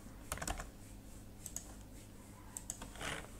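Computer keyboard typing in short bursts of clicks, with a few keystrokes around the middle and a final cluster of taps like pressing Enter, close and moderately loud over a low steady hum.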